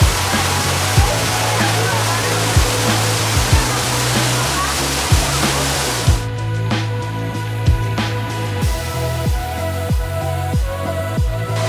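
Steady roar of a waterfall in Pasadena with rushing, splashing water throughout, joined midway by a low rumbling hum and scattered thumps.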